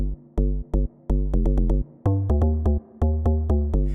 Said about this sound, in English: now you should have a bass that sounds like this